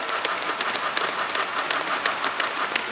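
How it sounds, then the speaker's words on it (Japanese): Crowd applause for volleyball players after an SV.League men's match between Nippon Steel Sakai Blazers and VOREAS, with dense, steady clapping from a large audience filling the hall and sharp individual claps standing out. "今日選手に大きな拍手をお願いし"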